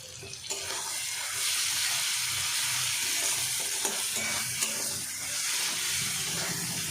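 Water hits hot spices frying in a pan for soybean kofta curry, a loud steady sizzle and hiss with occasional stirring clinks, close and continuous without talk.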